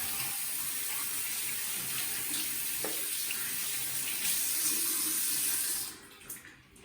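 Steady rush of water pouring from a tap into a sink, continuous and close, cutting off near the end with a few faint drips and clatters.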